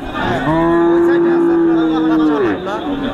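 A cow lets out one long, loud, close moo at a busy Hazratpur cattle market, with a low murmur of the crowd behind it.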